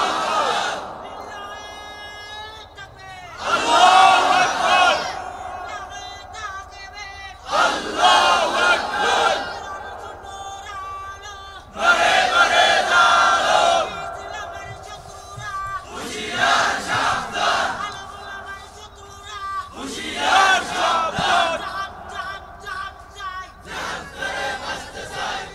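A large crowd chants the takbir, Allahu Akbar, in loud unison bursts that come roughly every four seconds, with a quieter crowd murmur between each call.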